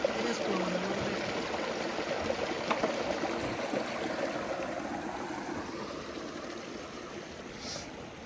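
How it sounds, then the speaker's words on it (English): Water trickling and flowing steadily through a partly clogged culvert, a continuous close stream-like wash with no talk. "It'd be good if we could dig out a little bit here to get more water flowing through it."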